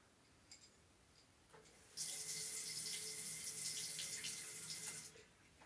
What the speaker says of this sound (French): il faut remplir la poire d'eau